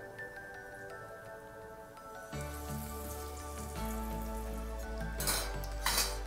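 Beetroot vada frying in hot oil in a home kitchen, a steady bubbling sizzle under background music, growing busier with bursts of crackle toward the end.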